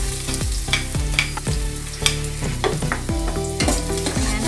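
Garlic sautéing in oil in a pan while being stirred: a close, steady sizzle with a string of scraping and knocking strokes from a utensil, roughly every half second, no speech.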